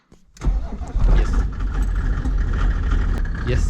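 A Mercedes car engine with no exhaust fitted cranks and catches, then runs loud and rough with an unmuffled roar, idling unevenly close by.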